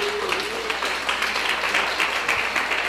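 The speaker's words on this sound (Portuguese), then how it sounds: "Você pode aplaudir ao Senhor?" Church congregation applauding during a worship service at Igreja de Nova Vida do Catete, a steady wash of many hands clapping at moderate loudness throughout, with a faint voice at the start.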